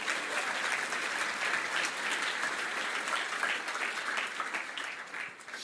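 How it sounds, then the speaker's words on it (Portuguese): A church congregation applauds steadily throughout, a dense, even wash of clapping from a large crowd that holds its level and tapers slightly near the end, with no speech. "Você pode aplaudir Jesus?"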